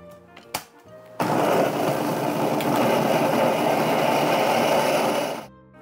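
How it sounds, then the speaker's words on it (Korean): An electric blender grinding soaked dried chili peppers for a mustard-green kimchi, a loud, steady motor whir starting after a few clicks and running evenly for several seconds before cutting off. "뚜껑 닫고 갈아보겠습니다."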